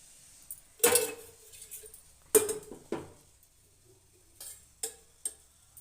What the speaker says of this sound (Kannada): ಸ್ಟವ್ ಹಚ್ಚಿ ಒಂದು ಪಾತ್ರೆ ಇಡೋಣ